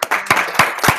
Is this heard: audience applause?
yes